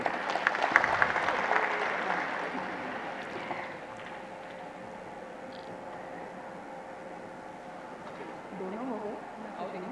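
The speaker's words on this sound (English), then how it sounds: "Let's grace this moment with a huge round of applause." Applause from the audience at an environment and sustainability summit closing ceremony, a loud burst of clapping that quickly subsides into a softer, sustained patter with room noise and faint voices underneath.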